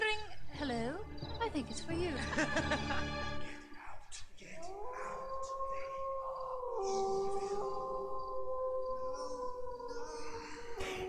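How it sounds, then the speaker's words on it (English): A dog's howl rises and holds in long wavering tones in the spooky puzzle game Shivers, following a ringing phone sound and brief spoken lines at the start. "That was just a dog howling."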